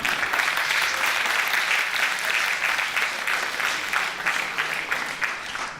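Sustained, dense applause from an audience at an Urdu mushaira poetry gathering, steady and loud for the whole stretch with no voices over it.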